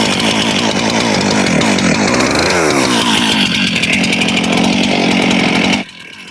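A DIY firewood processor's engine roars loudly and steadily, close by, with a rising rev partway through before cutting off abruptly near the end.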